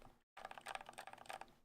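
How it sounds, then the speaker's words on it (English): Soft, muffled keystrokes from a silent mechanical keyboard with Helios switches, typed in a steady flurry of dense taps after a brief pause, close up and fairly quiet. "So this is technically a silent keyboard."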